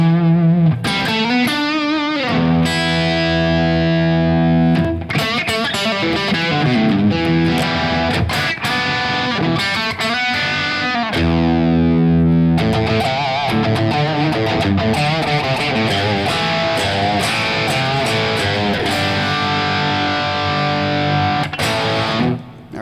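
Electric guitar played through a KTR overdrive pedal, loud and continuous with driven, mid-forward chords and single-note lines ringing out over about twenty seconds, no voice.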